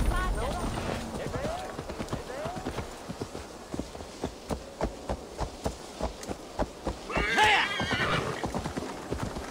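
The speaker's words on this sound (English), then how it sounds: "where's my horsey?" Horse hooves clip-clop at a steady gallop in Assassin's Creed Valhalla, with a whinny near the end and a voice talking over the rhythmic hoofbeats.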